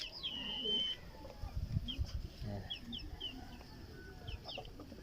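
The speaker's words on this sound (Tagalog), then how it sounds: "Nangingitlog na ulit yung isang manok natin" A hen clucks in short bursts at close range, with high chirps from other birds scattered throughout.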